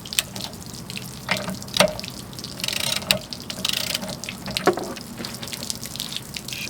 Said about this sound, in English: Let's get this water tank drained. Water heater drained.